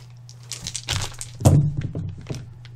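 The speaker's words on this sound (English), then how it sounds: "I'm gonna go ahead and open them up. Roll them a couple times." Tentacle Bento club dice tumbling onto a surface: a few close, hard clattering thunks and small clicks over a low steady hum.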